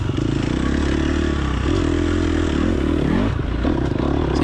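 A race car engine in the TORCS driving game revs hard on the throttle ahead of a turn through a bumpy wooded section, a steady loud drone with pitch sweeps and a brief dip before climbing again.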